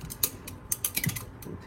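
A stainless steel chopstick stirs jars of beet kvass, giving faint, irregular clinks and scrapes against the glass, quick light taps close by in a quiet room.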